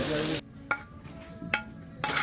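Loud sizzling hiss of Dinakdakan, a Filipino dish, on a hot sizzling plate, then a quieter stretch with a few short clinks and taps before the sizzle surges again.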